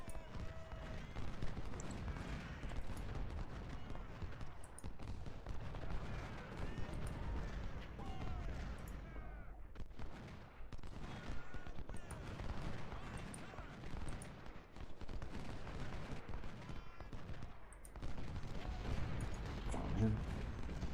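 Musket volleys in the Civil War strategy game Ultimate General: Civil War at the Battle of Cross Keys, a continuous rolling crackle of massed gunfire with heavier booms, moderately loud throughout, with a voice talking faintly underneath.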